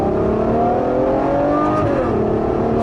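A Ferrari GTC4Lusso V12 engine revs loud and close, its pitch climbing in smooth harmonic sweeps, dipping briefly and rising again over a continuous rumble.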